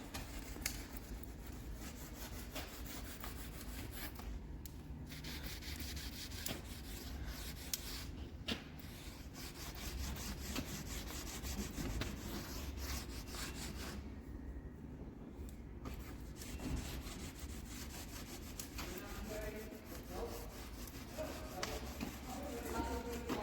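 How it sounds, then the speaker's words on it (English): Steady rough rubbing and scraping of sandpaper against a glued laminate kitchen worktop edge, continuous and close, with a low background hum. "Bit of sandpaper, which I'm going to do in a second."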